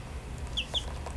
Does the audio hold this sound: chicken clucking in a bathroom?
yes